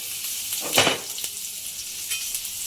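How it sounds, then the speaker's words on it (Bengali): Dried chillies, whole cumin, grated garlic and grated ginger hit hot oil with a steady broad sizzle, a brief louder burst near the start as they drop in, then continuous frying hiss. "তেল গরম হয়ে গেছে শুকনো লঙ্কা গোটা জিরে রসুনটা গ্রেট করা আর আদা গ্রেট করা দিয়ে দেবো"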